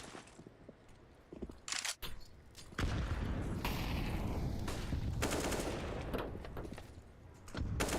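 Rapid gunfire from a Counter-Strike match in an esports grand final: a few short bursts early on, then a long, dense stretch of automatic fire spraying through a wall, loud and sustained.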